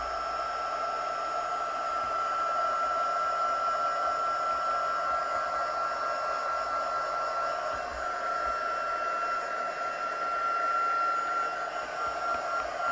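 A heat tool blows steadily over a layer of a handmade card, a constant airy whoosh like a hair dryer running close and loud without pause for the whole stretch, with no talking.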